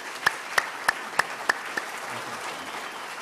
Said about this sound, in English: ladies and gentlemen, big applause.